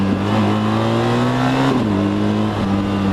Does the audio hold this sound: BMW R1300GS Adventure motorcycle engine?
yes